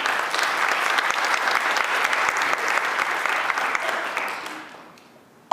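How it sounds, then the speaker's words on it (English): An audience at a youth high school debate event applauds loudly and steadily for about five seconds, the clapping fading toward the end. "So please give yourself a round of applause."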